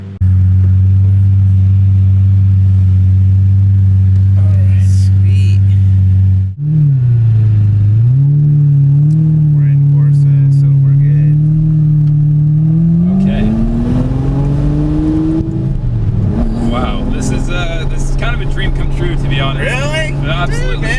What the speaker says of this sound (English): I've just been offered the keys to drive the LP670 SV.